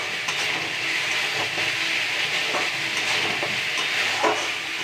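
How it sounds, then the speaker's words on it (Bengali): Spices fry in oil in a pan, making a constant close sizzle broken by occasional scrapes and knocks of stirring. "এবার তো মশলা ভাজা"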